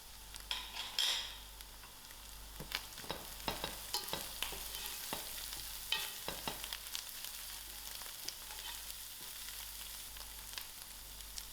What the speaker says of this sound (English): Now I'm just going to add in my mustard seed.